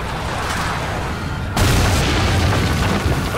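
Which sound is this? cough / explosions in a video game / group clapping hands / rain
explosions in a video game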